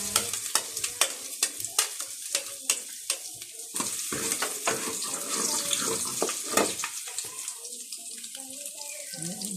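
Ginger hitting a hot wok and being stirred for a quick sauté, with a bright sizzle under repeated scraping and stirring clatter, fairly close and steady throughout.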